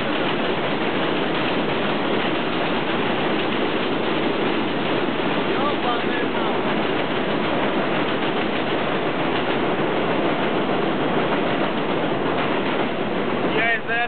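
An elevated subway train rolls past at Brighton Beach, New York, a steady loud rumble and rattle of wheels on track filling the whole stretch, with faint clatter near the end.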